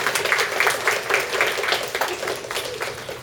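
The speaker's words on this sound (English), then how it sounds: "A huge round of applause." Audience applause at a literature panel as a panelist is introduced, steady clapping from a seated crowd rising and falling over a few seconds with no talk.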